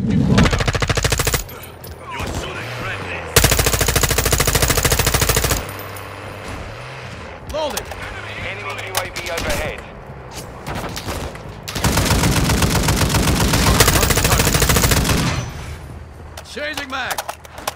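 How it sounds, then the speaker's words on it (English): Loud automatic gunfire from Call of Duty: Modern Warfare II comes in long sustained bursts with shorter volleys between them, over a continuous battle din with voices calling out. "Taking fire. Hostile UAV in the area. Taking effective fire."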